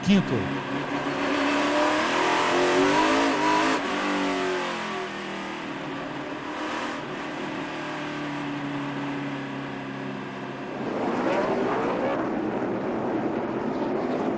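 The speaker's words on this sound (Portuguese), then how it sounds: "Acompanhe vários carros aqui na parte interna da pista" NASCAR Sprint Cup stock cars racing at Las Vegas, engines roaring steadily as several cars pass on the inside of the track, with a loud surge near the end under continuous commentary talk.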